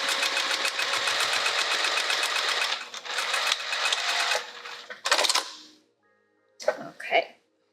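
A sewing machine stitches fabric layers for a dome project in a long, fast, steady run, then stops and gives two short bursts with brief pauses between, loud and close.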